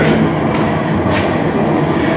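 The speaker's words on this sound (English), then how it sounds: "You can hear the train going over." A train rumbles loud and steady overhead as it passes above a tunnel, a continuous rolling roar with faint clickety-clack from the rail cars, heard from inside the tunnel below.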